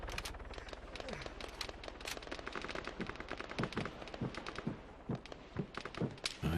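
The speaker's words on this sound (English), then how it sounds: "Just heard some gunfire over here" Arma 3 gunfire rattles in rapid, overlapping bursts for several seconds, loud and close, with a muffled voice underneath.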